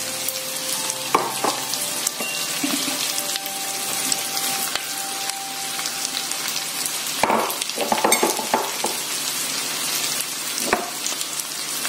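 Shrimp fried rice sizzles and crackles steadily in a hot pan, with occasional scraping and clattering as it is stirred, loud and close with no talking.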